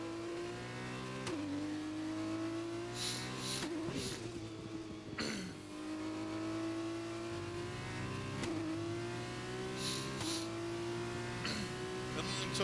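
An F2 race car laps Spa-Francorchamps in the F1 2021 video game, its engine screaming up through the revs, dropping sharply on each upshift and climbing again, with brief bursts of noise and a few faint vocal sounds.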